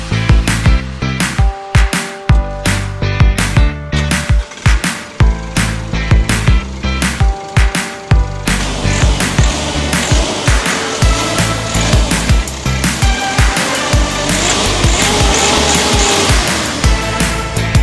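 A van's newly installed 1.9 engine runs loud and close, revving in repeated sharp bursts at first, then settling into a dense, continuous roar with no talk over it.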